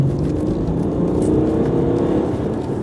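BMW F30 330d diesel saloon under hard acceleration on the road, a steady, loud engine drone and road roar sustained throughout with no break, heard from inside the car.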